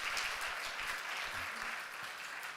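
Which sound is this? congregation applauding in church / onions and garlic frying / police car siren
congregation applauding in church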